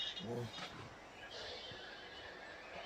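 A horse whinnies briefly and faintly near the start, a short harmonic call over a quiet outdoor background hiss that continues afterward.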